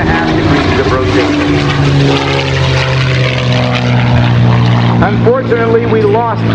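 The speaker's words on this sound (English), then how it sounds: "Performing now a very difficult 16-point hesitation roll, stopping the aircraft every 22 and a half degrees of rotation." P-51D Mustang propeller aircraft flying a 16-point hesitation roll at an air show, a loud continuous droning engine roar with shifting pitch, and a commentator speaking over it throughout.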